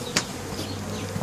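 Bees buzzing steadily around honeycombs being removed from a house, a close, continuous droning hum with a few sharper passes near the microphone.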